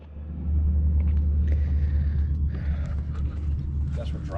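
A car drives along with a steady low engine rumble and road noise heard from inside, continuous throughout, with faint rattles and small sounds above it.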